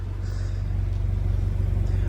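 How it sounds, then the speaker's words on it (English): A Toyota 86 GT Limited with a TRD high response exhaust running steadily, with a deep pulsing low exhaust drone and a constant rumble, loud and close throughout. "It's got the TRD high response exhaust as well"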